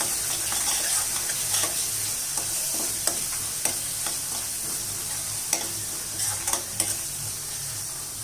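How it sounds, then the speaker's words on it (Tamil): Small shallots sautéing steadily in a hot pan for a paarai fish curry, a continuous close sizzle broken by repeated spoon scrapes and stirring clinks, with no voices. "நல்லா ஒரு 2 நிமிஷம் நல்லா வதக்கிக்கோங்க. சின்ன வெங்காயம் நல்லா சீக்கிரம் வதங்கிடும்."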